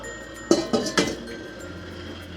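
Three distinct metallic clinks ring out as a pot lid is set over a steaming dish of chicken wings with Chinese sausage, mushrooms and lily buds, close and crisp, followed by a quiet kitchen hum.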